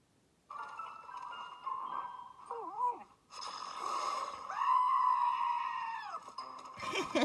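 A cartoon moose lets out a long wailing scream in strained, wavering tones with a couple of short cracking bursts, loud and close, alone without talk.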